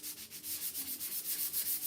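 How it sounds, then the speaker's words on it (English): Sandpaper rubbing over a painted wooden sign from a welcome sign kit, a steady rhythmic scratch of back-and-forth strokes, close and fairly quiet, with no voices. "Sometimes the sanding of it kind of smooths out any spots where it looks uneven."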